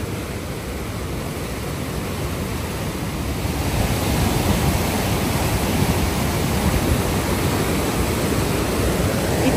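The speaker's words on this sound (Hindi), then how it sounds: "इतना तेज़ पानी, उफ" Fast-flowing water rushes at the Canada–US border, a dense, steady roar that fills the space and grows slightly louder partway through, with no voices.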